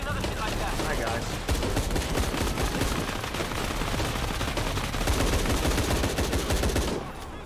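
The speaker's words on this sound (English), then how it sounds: "Sir, stop shooting me!" Sustained heavy gunfire aimed at the player in Shadow of the Tomb Raider, loud continuous rapid shots and impacts for about seven seconds before easing off, with a voice faintly under the din.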